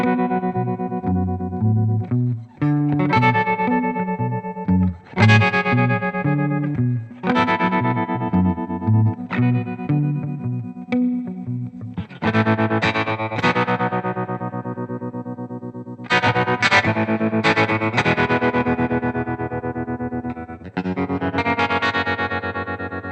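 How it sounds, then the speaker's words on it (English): Electric guitar played through a Boss TR-2 tremolo pedal set to a fast optical tremolo, with chords and riffs pulsing rapidly in volume, loud and continuous with no talking. "those are pretty good examples of this fast optical tremolo sound that I'm talking about"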